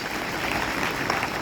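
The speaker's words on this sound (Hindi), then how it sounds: "उनका उत्साहवर्धन करें जोर से ताली बजाकर" A gathered audience at a school scout rally ceremony claps for the winning scout team, producing a steady, dense patter of many hands at a moderate, even level with no voices over it.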